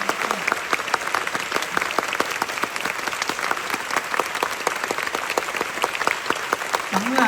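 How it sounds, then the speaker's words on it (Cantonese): An audience applauds the cast and crew at the final performance of a musical, dense sustained clapping from a crowd, steady and bright throughout. "我想借你掌聲，俾一次舞台上面所有嘅演員同埋我哋幕後嘅團隊。"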